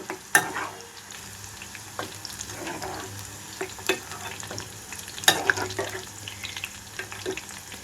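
Bitter gourd pieces frying in oil, with a low steady sizzle broken by sharp clinks and scrapes of a spoon stirring in the pan, close and fairly quiet.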